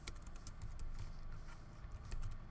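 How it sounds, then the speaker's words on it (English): Keys clatter on a computer keyboard as a word is typed into a design program, a quick close run of light taps and clicks with no talking. "we're going to type in the word nautical"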